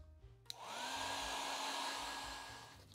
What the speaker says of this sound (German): Nun föhne ich diesen Bereich.